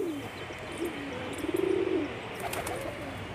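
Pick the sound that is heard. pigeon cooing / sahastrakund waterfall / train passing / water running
pigeon cooing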